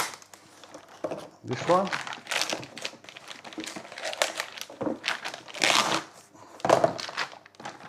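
Packaging crinkles and crushes in several loud bursts as a Kansai Service aluminium strut bar for a GTR R32 is unwrapped close by, with a person talking over the rustling.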